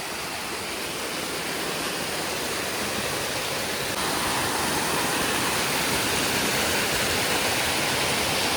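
A hidden waterfall and its stream near Insuli in Sawantwadi roar in a steady, dense rush of falling water, loud and close, with no voices.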